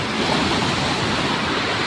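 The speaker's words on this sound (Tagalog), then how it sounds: "sumasampaho dito ang alon sa taas na to" Big waves crash and roar on the shore at Punta Harina Beach, a dense, loud, unbroken wash of surf with wind noise, no voices.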